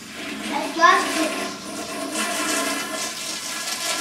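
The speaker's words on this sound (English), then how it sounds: "It's just flushing all it down." A toilet flushing and refilling in a home bathroom, a steady rushing wash of water with someone talking over it.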